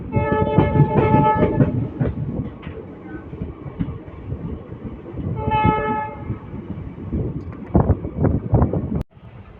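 A Hubballi Express, train 17320, running on the line from Hyderabad to Hubballi, with a steady loud rumble and wheel noise throughout. A horn sounds in two bursts near the start and around the middle, and a sharp bang comes near the end.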